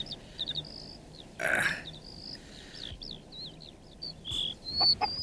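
A cartoon hen gives a series of soft, irregular clucks and squawks amid outdoor quiet, with a brief rustling burst near the start.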